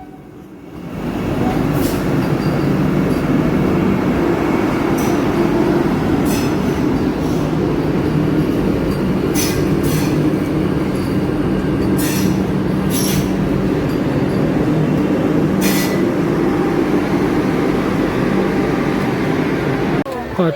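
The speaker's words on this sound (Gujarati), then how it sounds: "વંદે ભારત ટ્રેન હમણાં જાય ને તો આપણે વિડીયો લઈશું વંદે ભારત ટ્રેનનો" A Vande Bharat train passes close by with a loud, steady rumble of wheels and carriages that lasts for about twenty seconds, with occasional sharper rail clicks.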